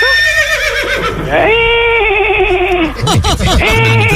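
On a French morning radio show, a person imitates a horse neigh with a loud, wavering whinny that rises and falls, then breaks into a shakier second burst. No other talk is heard.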